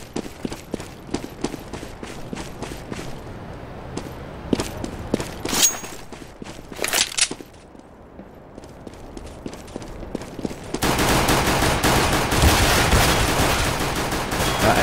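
Rapid bursts of fake gunfire from a decoy grenade in CS:GO crackle through a busy match in irregular volleys, with louder shots around the middle before a dense, steady wash of noise takes over near the end.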